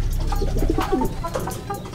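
A racing pigeon coos in low, throaty rolling notes, close by, over a steady background rumble.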